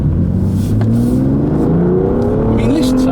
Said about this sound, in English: I mean, listen to that sound.